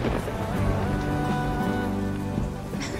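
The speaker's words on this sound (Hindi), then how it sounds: "कितनी अच्छी बारिश हो रही है" Steady rain falls in an outdoor setting, a continuous dense patter over a low wash of background music, with no voices.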